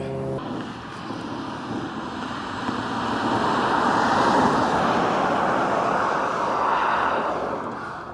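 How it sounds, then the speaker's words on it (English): An MG Cyberster electric sports car cruises past with almost no motor sound, only a steady broad hiss of tyre noise that swells as it nears and fades as it moves off. "all you can literally hear when the car's kind of cruising right past is tyre noise"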